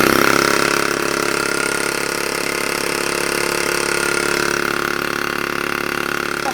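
A vintage American Weeden model 17 steam engine runs steadily on about 12 psi of steam, giving a loud continuous mechanical whir with a busy rattling texture that holds even throughout.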